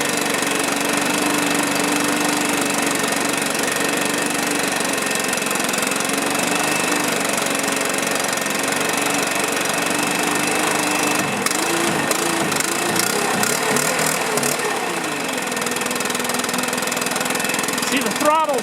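A Stihl 4-Mix small engine idles steadily while warming up from cold, its continuous drone close and loud, with a brief burst of sharper mechanical rattling partway through.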